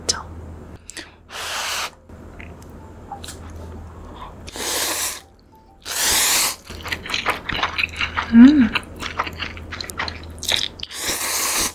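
Close-up eating of Shin Ramyun The Red with soft tofu, chili and egg, alongside whole cheese kimbap and napa cabbage kimchi, with repeated wet chewing and slurping broken by short loud bursts and a brief vocal sound.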